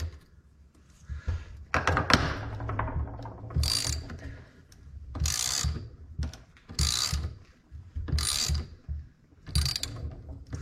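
A hand wrench ratchets while loosening a stiff nut on a workbench part that was just ground and filed, giving repeated bursts of close, loud clicking strokes with short pauses between them, no talking.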